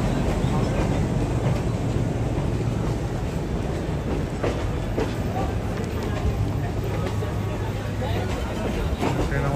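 The Chambal Express pulls out of a busy Indian railway station with a steady, dense rumble of rolling wagons and occasional clanks, while people talk close by throughout.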